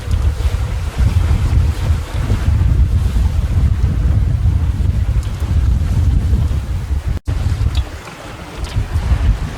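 Strong wind of about 20 knots roars across the microphone aboard a boat at sea, over rushing water and waves, a steady loud buffeting with a brief dropout near the end.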